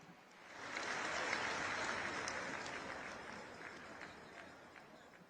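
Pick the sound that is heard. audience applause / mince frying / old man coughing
audience applause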